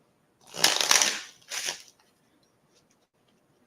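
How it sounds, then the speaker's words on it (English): Cards riffled and shuffled in two quick bursts, a longer one followed by a short one, close up, then quiet. "I'm gonna shuffle this one more time, Machiavelli, then we good."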